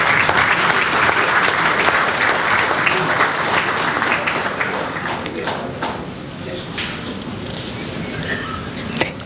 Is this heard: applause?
yes